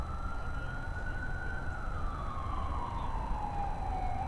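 A distant emergency siren wails steadily through the whole stretch, its pitch sliding gradually lower, over a constant low rumble of outdoor background noise near a rail yard in Chattanooga.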